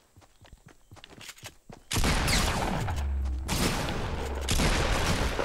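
Gunfire in the Fortnite video game. Faint scattered shots come first, then a loud, sustained burst of rapid shooting that fills most of the clip with dense, continuous blasts and no talking.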